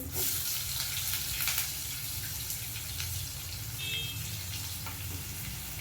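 Chopped onion sautéing in a pan of hot oil with whole Kashmiri red chillies and curry leaves for sambar, a steady close sizzle throughout, strongest at the start, with no talk.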